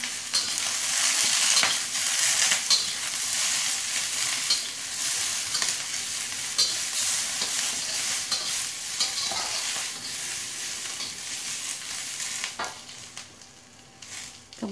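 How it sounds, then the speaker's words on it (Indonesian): Oil sizzles and crackles steadily as chili peppers are stir-fried in about two tablespoons of oil in a pan, with occasional scraping strokes, close and continuous with no talking. "seperti kita tumis gitu ya, oseng-oseng cabenya"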